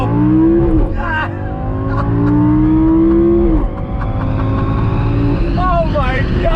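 A Lamborghini Gallardo engine pulls hard at full throttle from inside the cabin, loud rising revs climbing in two long sweeps with a brief dip at a gear change, a voice exclaiming over it.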